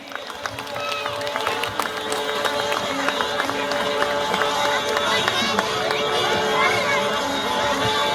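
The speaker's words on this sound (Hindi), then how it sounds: "एक बार तालियां की गुंजवाहट कर दीजिए।" A Ramleela stage audience claps and cheers together as a dense, steady wash of crowd noise, with shouting voices mixed throughout the clapping.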